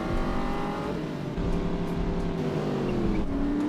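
A British car driven in The Saboteur video game has its engine droning steadily and close, the pitch climbing and shifting as it accelerates, with no talk over it.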